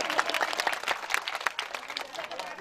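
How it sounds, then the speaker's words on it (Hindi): An audience at a Bhagavat Katha gathering in a village in Madhya Pradesh applauds with dense, steady clapping from many hands, moderately loud and close, with no voices over it. "तालियां बजा दीजिए भैया।"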